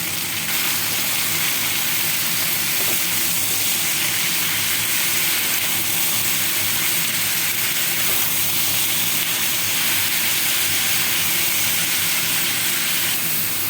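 Potatoes and pointed gourd with green chili, salt, turmeric and black cumin fry in a pan, giving a steady, loud, unbroken hiss throughout with no talk.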